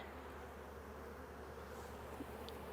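Honey bees drone in a soft, continuous hum at an opened hive during fall feeding in the central United States, steady and fairly faint throughout.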